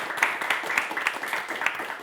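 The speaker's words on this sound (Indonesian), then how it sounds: "Kasih tepuk tangan juga dong untuk Irfan." A modest audience claps for a fencing medalist, a soft, fairly distant patter of irregular hand claps that continues evenly without cheering.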